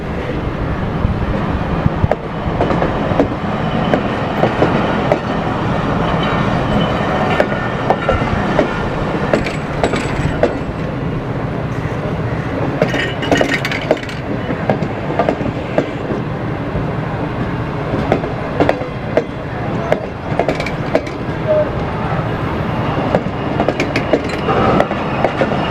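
A Business Express passenger train runs on its rails, a steady loud rumble with clattering wheel noise and wind buffeting throughout, no talk.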